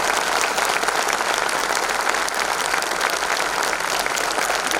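Thunderous applause from a large audience at a BJP youth wing (BJYM) workshop in 2023, welcoming the national president: dense, steady clapping that fills the whole stretch at full strength without letting up.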